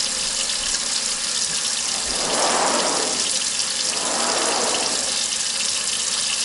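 Cold tap water runs steadily into a sink or bowl to rinse salted northern pike for pickling, a continuous broadband splash that swells louder in two slow surges, with no talk over it.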